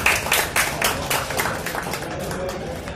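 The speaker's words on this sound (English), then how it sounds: "put your hands together and give a big round of applause for what TCS has accomplished in Pakistan" Audience applause at a product launch event for the iDroid BALR X7 Android phone in Pakistan, a steady wash of many hands clapping, fairly close and moderately loud, fading slightly toward the end with no talk over it.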